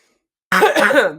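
After a moment of silence, a single close, rough throat-clearing cough bursts out and trails off.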